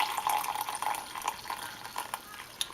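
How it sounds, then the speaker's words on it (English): Greek coffee poured slowly from a briki into a big glass, a thin steady liquid trickle with faint splashy patter, close and fairly quiet, with no talking. "you have to pour very slow because you don't want it to get anywhere else"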